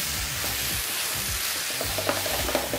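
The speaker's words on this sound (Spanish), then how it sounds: "Primero la tocineta para que se vaya dorando y se vaya cocinando junto con nuestra cebolla" Bacon fries in a pan with onion and garlic, making a broad steady sizzle with a low hum underneath and a few faint clicks near the end.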